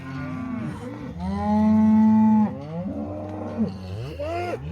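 Cattle on a ranch mooing, with a cow and her calf penned together: several drawn-out moos in a row, one long loud low call in the middle, with other close calls before and after it.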